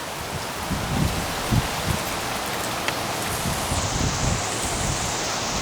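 Steady rain from Tropical Storm Nicholas in Houston, Texas, hissing continuously on surfaces with scattered closer drops and a bit of wind underneath.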